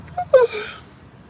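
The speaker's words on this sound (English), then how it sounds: "We have some honking going on out there in the streets." Car horns honk out on a city street, heard from indoors as a couple of brief, fairly distant blasts within about a second.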